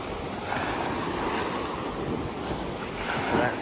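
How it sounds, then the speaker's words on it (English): Ocean waves crash onto a beach at high tide, a steady, loud wash of surf mixed with wind buffeting the microphone, continuous and close with a slight swell near the end. "Always nice to hear the waves crashing in."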